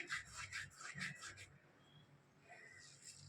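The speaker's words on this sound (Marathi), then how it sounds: "ओवा घेतलाय, ओवाला हातात घासून घेऊया चांगला" Dry carom seeds (ajwain) are rubbed between the palms in a few quick, soft scratching strokes close by, then the sound fades to quiet rustling.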